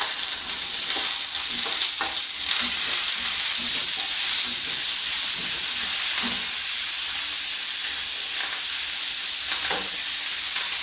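Tomatoes and onions sauté in a pan for South Indian tomato chutney, a steady close sizzle with scattered stirring scrapes running throughout, no voices.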